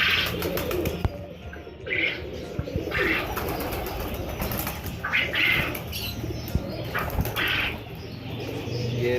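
Pigeons in a breeding coop holding eggs and young chicks coo softly and flap their wings in repeated bursts, with scattered chirps over a steady background murmur.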